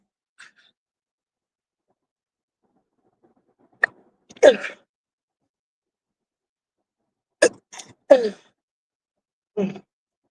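A few short, sharp sneeze-like bursts break an otherwise quiet room, spaced apart with one louder pair near the end.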